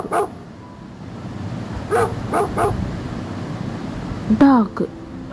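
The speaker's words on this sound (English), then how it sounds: "Dog." A dog barks several times in short, sharp bursts, close and clear, followed by a higher yelping whine.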